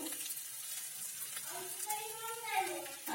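Chili powder drops into a frying spice paste for a Bengali oil-rich koi fish curry, giving a faint, soft sizzle that runs low and quiet beneath a speaking voice.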